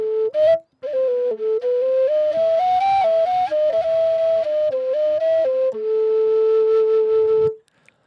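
Caval, the Balkan end-blown wooden flute, playing the second half of the A part of Hora Balako as a solo melody, breathy and ornamented with trills, stepping through short phrases before ending on a long held note.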